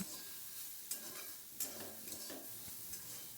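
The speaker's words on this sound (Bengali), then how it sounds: "আমি আলুটাও আর যুক্তি ফুল দুটো একসাথেই ভাজা করছি" Potato and pumpkin flowers fry together in a pan without water, a soft, steady sizzle broken by faint spoon scrapes and taps as they are stirred.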